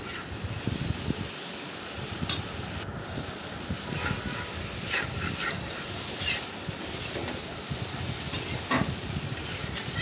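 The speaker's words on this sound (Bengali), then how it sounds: "এখন মশলার সাথে লতিগুলো ভালো করে মিশিয়ে নেব।" Boiled taro stolons stirred into spices in a pan, giving a soft continuous sizzle and hiss with scattered scraping and stirring noises close by.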